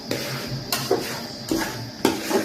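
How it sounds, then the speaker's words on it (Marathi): Banana pieces are sautéed in ghee in a pan for a sweet semolina offering, heard as four distinct spatula knocks and scrapes against metal over a faint, soft sizzle. "तर केळी परतून घ्यायची"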